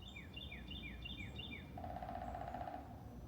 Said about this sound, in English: You guys hear the woodpecker?